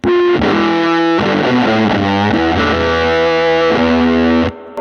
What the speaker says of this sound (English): So let's talk about some fuzz now.